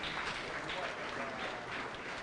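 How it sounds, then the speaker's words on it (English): An audience applauds at the commissioning ceremony of the Parliament of Ghana Museum, a steady, distant-sounding wash of clapping that holds evenly throughout. "A round of applause for Mr. Speaker."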